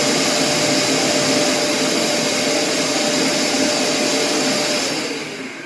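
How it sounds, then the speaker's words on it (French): A Mirka 125 sander runs with its automatic dust-extraction vacuum, giving a loud, steady whooshing roar that holds level, then eases slightly near the end, with no talking. "T'appuies sur le mode marche, ça déclenche automatiquement l'aspirateur."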